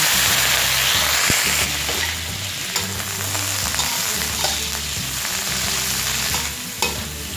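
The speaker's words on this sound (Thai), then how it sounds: "ผัดให้พอเขาสลดหน่อยนะคะ" Asparagus and crispy pork being stir-fried in a pan, a steady loud sizzle with repeated scraping and clanking stirs of the spatula, close up and without talk.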